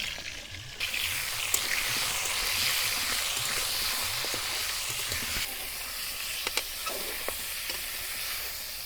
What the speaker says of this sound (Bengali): প্রথমে ফুলকপিগুলো ভেজে নিব।